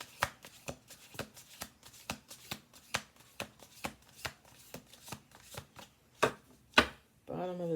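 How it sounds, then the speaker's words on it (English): A deck of cards is shuffled up close, with a series of crisp, snapping card flicks in an uneven rhythm, followed by a short burst of voice at the end. "one more shuffle."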